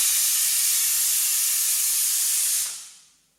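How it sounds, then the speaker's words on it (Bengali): A pressure cooker cooking mutton with whole garlic vents steam in a loud, steady, close hiss that holds for a few seconds and then tapers away to quiet. "এবারে প্রেশারের সিটি দিয়ে দিয়ে দেবো"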